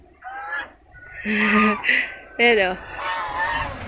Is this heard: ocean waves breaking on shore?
no